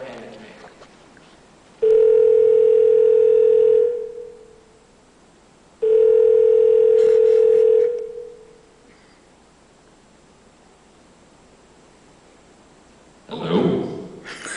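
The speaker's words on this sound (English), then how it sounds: "I reached into my pocket, grabbed my cell phone, and then dialed the number that Margot handed to me." A cell phone call to a dialed number: two long, steady, loud line tones, each about two seconds and separated by silence, then a brief rustling noise at the end.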